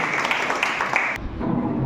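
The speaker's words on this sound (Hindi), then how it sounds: "आप उनका तालियों बजाकर हार्दिक स्वागत करते हैं।" A crowd applauding steadily at a diet camp session in Sidhpur, a dense wash of many hands clapping at once that tapers toward the end.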